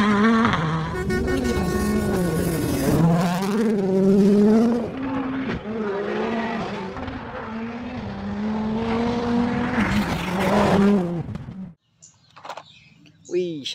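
A voice imitates the engine of a small toy race car with rising and falling vroom sounds, loud and continuous for most of the stretch, before it breaks off into quieter scattered noises near the end.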